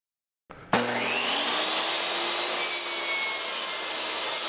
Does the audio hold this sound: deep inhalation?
no